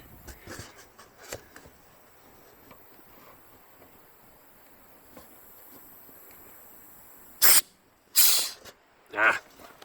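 Compressed air blasts from an air hose while a leaky car sunroof is being fixed, coming as three loud, close hissing bursts near the end after a stretch of quiet handling noise.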